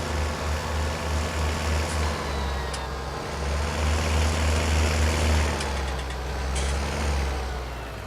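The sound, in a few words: tractor engine driving in video game Farming Simulator 19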